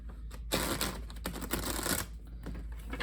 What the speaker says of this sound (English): I want to show you guys that I'm shuffling well here too